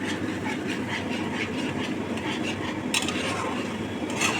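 A cashew-tomato spice paste with whole garam masala, bay leaf and cumin cooks in oil with a dense continuous sizzle and occasional stirring clatter, close and loud, with no talking.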